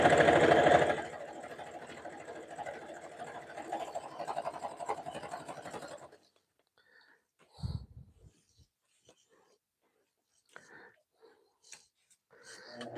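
A sewing machine stitching fabric for a jelly roll rug runs with a dense, steady mechanical whir for about six seconds, then stops, leaving near-silence broken by faint handling noises and a soft thump.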